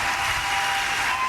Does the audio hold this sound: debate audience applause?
yes